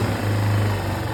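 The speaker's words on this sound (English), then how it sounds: "Let's get that carburetor good and warm" An engine fitted with a Chinese carburetor runs at a steady idle while warming up, a loud continuous low drone with a faint rattling texture, close by and unchanging for the brief moment.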